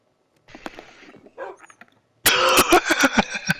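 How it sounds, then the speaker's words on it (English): A pet dog barking in a home during a friends' gaming session, a few sharp nearby barks and yips bursting out loudly in the second half after quieter rustling. "your dog barked for the da"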